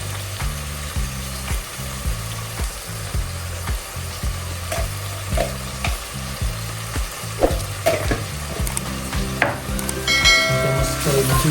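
Tomatoes and salt sizzle and fry steadily in a hot pan for a crab curry, a continuous close crackle with occasional stirring scrapes and no voices.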